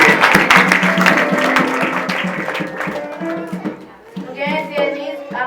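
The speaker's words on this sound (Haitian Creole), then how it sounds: "Applaudis, applaudis, applaudis." Clapping from a congregation in a church fills the opening seconds, loud and close, under several voices, then fades as speech carries on.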